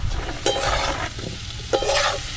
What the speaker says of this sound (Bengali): আলুগুলো দিয়ে দেবো ভেজে রাখা